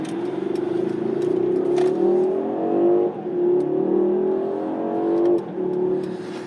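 A 2021 Mercedes-AMG GLS63 pulls hard onto a freeway in Sport Plus mode, its engine note rising steadily through the gears with brief dips at each shift, loud and continuous from inside the cabin.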